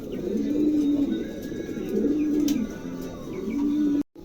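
Pigeons in a cage coo loudly and close by in steady, repeating rounds of deep rolling calls, with faint chirps in the background and a brief drop to silence just before the end.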